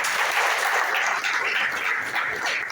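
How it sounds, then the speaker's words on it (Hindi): Sustained audience applause at a seminar-style gathering in India, a dense, steady wash of many hands clapping that fills the whole moment without a break, with no voices on top. "गजानन सबके लिए जोरदार तालियां।"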